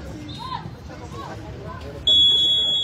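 Shot clock buzzer at a 3x3 girls' basketball quarter final, blaring loud and steady for the last second after crowd murmur and a commentator's voice fill the court.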